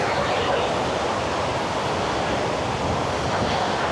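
Water from Hulugan Falls in Laguna flows along a muddy trail, a steady, dense rushing wash that stays even and fills the whole clip.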